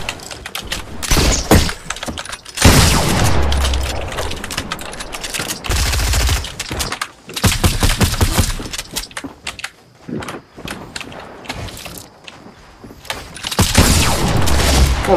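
Rapid automatic gunfire rattles in bursts during a Fortnite match, loud and close, with sustained volleys and short pauses between them across the whole stretch.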